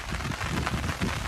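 Steady rain falls over open cotton fields during a monsoon shower, a dense continuous hiss with no voices and no distinct drops.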